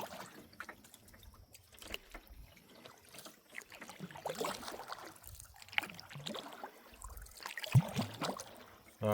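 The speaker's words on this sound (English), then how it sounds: "There's barely enough room on each side of me to put my paddles down into the water." Soft, close splashes and trickles of kayak paddles dipping into lake water in a narrow channel, irregular strokes alternating with drips, quiet and without talk.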